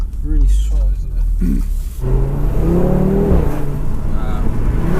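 Tuned Audi RS3 with a 440 bhp engine, heard from inside while driving: a steady, loud engine drone running throughout, with people talking over it in the cabin.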